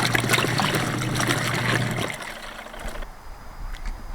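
Water sloshes and churns in a small camping washing machine during its rinse cycle, a close, moderately loud agitation that fades to a quieter trickle after two seconds.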